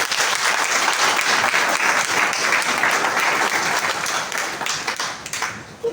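Seminar audience bursts into sustained applause, a dense wash of many hands clapping at steady strength before thinning out toward the end.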